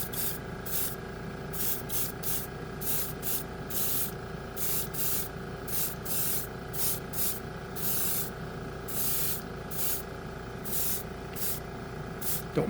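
Acrylic base paint sprayed onto a model from an airbrush-type sprayer, a steady hiss broken by rapid repeated bursts as the trigger pulses, close and continuous throughout.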